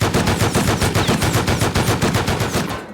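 Rapid automatic gunfire in the survival game Rust, a loud, evenly spaced burst of about a dozen shots close up, cutting off at the end.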